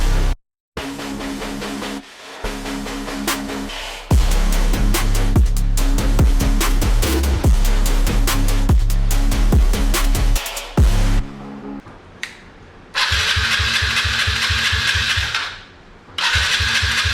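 A dirt bike with a leaky petcock cranks in several loud, close bursts, briefly catching and stalling between attempts, then fires and settles into a rough, steady running note before cutting out near the end.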